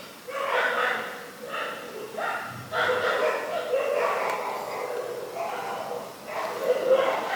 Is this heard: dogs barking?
yes